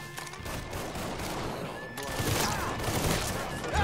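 Blind-fired gunfire in a Mafia 3 shootout rattles in dense, continuous bursts, loud and close throughout, with a louder stretch in the second half.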